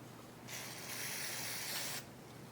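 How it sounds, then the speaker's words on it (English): A single burst of aerosol gun-cleaning spray hisses steadily for about a second and a half onto a Taurus Judge revolver near the barrel, close and quiet, starting and stopping sharply. "I'm just going to spray it down."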